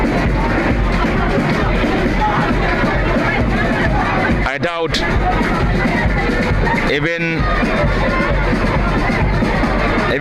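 Dense crowd roar and babble at a packed Brikama Summer Nawettan football match between Gidda Kabilo FC and Darsilameh Utd, a constant loud wash of spectators with a commentator speaking over it.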